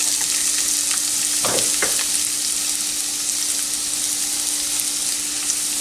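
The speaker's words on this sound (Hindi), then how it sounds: "गार्लिक को 30 सेकंड तक मीडियम फ्लेम पर साथे करने के बाद उसमें ये एक छोटे साइज़ की प्याज है, बारीक चॉप की हुई, इसको भी डाल देंगे" Garlic and finely chopped small onion sautéing in oil over a medium flame, a steady close sizzle with a couple of brief stirring scrapes partway through, no talking.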